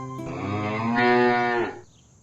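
A cartoon cow gives one long, loud, drawn-out moo that swells in the middle and then cuts off, leaving a short quiet tail, with no speech.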